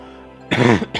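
A single harsh cough erupts up close and loud after a quiet moment, followed by a short second burst.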